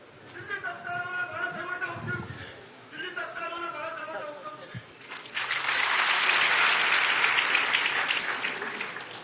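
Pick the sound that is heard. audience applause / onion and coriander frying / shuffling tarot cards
audience applause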